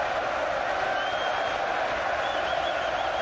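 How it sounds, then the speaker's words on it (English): A large boxing crowd roars continuously at the Carl Froch vs. Mikkel Kessler rematch, a dense, unbroken wall of cheering and noise filling a big indoor arena. "Listen to the crowd here."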